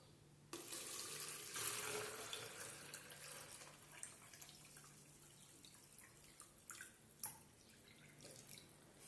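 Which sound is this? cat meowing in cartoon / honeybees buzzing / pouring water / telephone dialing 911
pouring water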